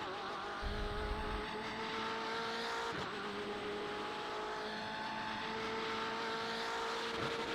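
BMW M8 GTE race car in the iRacing video game, lapping the Detroit Belle Isle street circuit, a fairly faint, steady engine tone with a shifting pitch and brief tire noise, mixed with some background noise.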